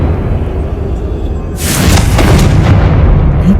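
The Confringo spell from Hogwarts Legacy sets off a sudden booming blast that erupts over a rumbling background and then trails into a crackling, sustained roar.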